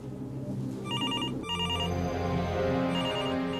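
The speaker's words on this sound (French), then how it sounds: "la sonnerie du téléphone retentit" A telephone rings in repeated trilling bursts, loud and electronic, over a tense music bed with no speech.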